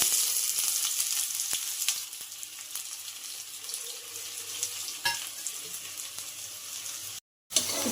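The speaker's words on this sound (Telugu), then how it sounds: "ఇప్పుడైతే ఆనియన్స్ అండ్ చిల్లీస్ని బాగా ఫ్రై చేసుకోవాలి కదా." Sliced onions and green chillies fry in oil in a pan, a bright, steady sizzle with occasional sharp clicks and scrapes of stirring, briefly cutting out near the end.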